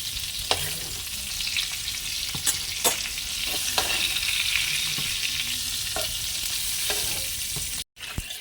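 Onion sizzles steadily in hot oil, a continuous crackling hiss with occasional scraping stirs and clinks, no talking.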